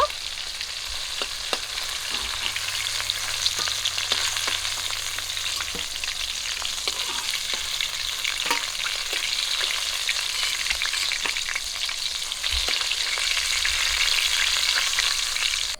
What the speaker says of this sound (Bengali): মাছগুলো কিন্তু আমি বেশি ভাজা করব না একটু হালকা করে ভাজা করে নেব